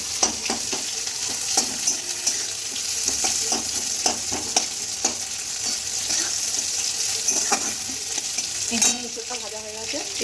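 Onions frying in hot oil already fragrant with garam masala for a Bengali home-cooked dish: a steady, close, dense sizzle runs throughout, punctuated by repeated scraping and clinking of a stirring utensil against the pan.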